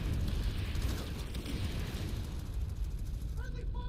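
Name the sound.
explosion from a strike in video game Planetside 2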